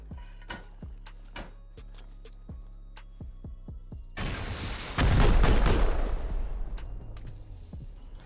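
A rocket fired at a fence during a Rust raid: several clicks and small impacts come first, then a loud roaring launch and a heavy blast that decays into a long rumble.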